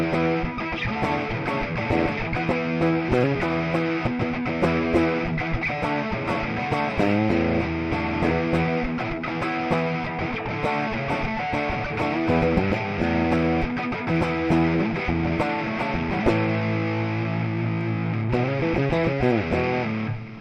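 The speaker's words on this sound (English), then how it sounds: "a modern plexi lead sound" Electric guitar run through a modern Marshall plexi lead amp preset in AmpliTube 5, crunchy and saturated, playing continuous riffs and chords at steady loudness for about twenty seconds with no talking.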